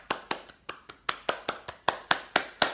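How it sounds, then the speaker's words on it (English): About a dozen sharp claps or taps in a steady, fairly quick rhythm, close and moderately loud, with no voices. "I think you all deserve a round of applause."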